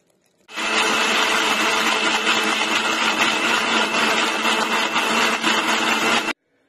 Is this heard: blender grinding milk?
yes